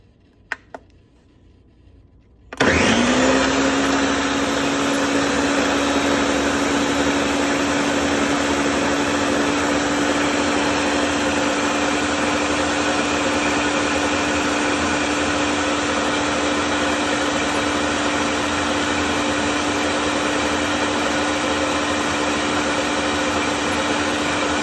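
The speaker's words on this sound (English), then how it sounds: "After it's blended in the blender." A blender blending fig jam starts abruptly and runs at a loud, steady whir for over twenty seconds without pause.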